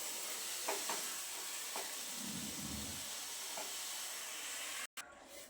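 Sprouted matki (moth bean) dry sabzi frying in a pan, giving a steady broadband sizzle with a few soft scraping stir strokes, continuous and close, with a brief dropout near the end.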